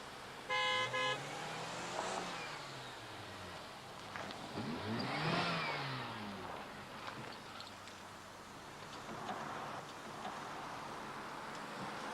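A car pulls up with a steady engine rumble, and a short horn toot sounds near the start; the vehicle stays moderately quiet and close, with no talking.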